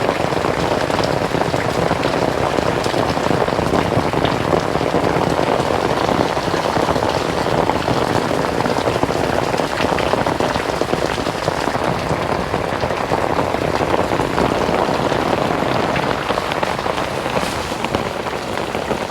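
Heavy rain pours down steadily outdoors during a storm, a dense, continuous hiss of drops hammering surfaces at constant loudness throughout, with no voices.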